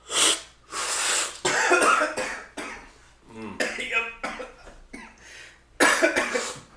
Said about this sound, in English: If you're coughing, you've done it right.